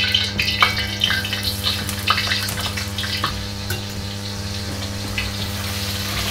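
Salt fish sizzles steadily in about two tablespoons of oil in a pan over medium-high heat, a continuous close frying hiss broken by scattered crackles and a few utensil clicks, with no one talking.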